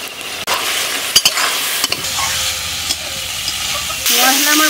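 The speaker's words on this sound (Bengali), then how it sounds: "মশলা আমার ভাজা হয়ে গেছে," Spices with ground cumin and chilli paste, turmeric, salt and amchur frying in a pan for a snail dish, a steady close sizzle broken by a few sharp spatula taps.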